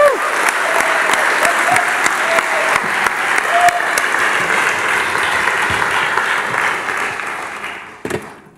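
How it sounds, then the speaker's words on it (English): An audience gives a loud round of sustained clapping that holds steady and then thins and fades out near the end, with a brief knock at the close. "perhaps we could give her a round of applause"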